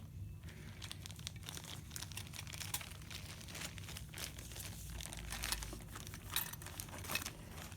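A plastic bag is pulled off a Lionel 4-6-4 C&O Hudson Jr model locomotive, making faint, close crinkling and rustling with scattered small crackles throughout.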